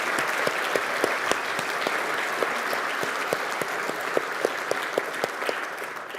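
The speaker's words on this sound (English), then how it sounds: "Let's give them a heartfelt round of applause." An audience at a conference opening applauds warmly, a continuous wash of clapping with distinct nearby hand claps popping out repeatedly.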